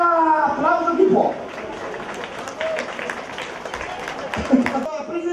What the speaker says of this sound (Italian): applauso chi può!